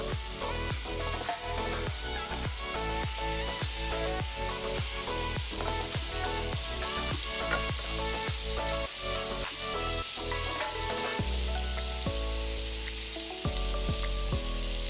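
Garlic frying in oil in a pan for escabeche, a steady close sizzle with repeated rhythmic scraping or stirring strokes throughout.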